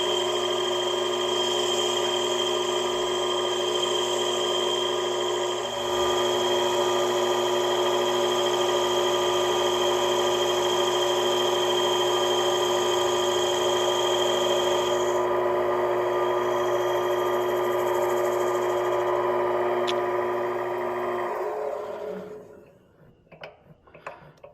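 A mini lathe turns a plastic workpiece, cut using the compound set parallel to the ways: a steady, close mechanical whine with a raspy cutting edge runs for about twenty seconds, then winds down and stops, leaving small clicks.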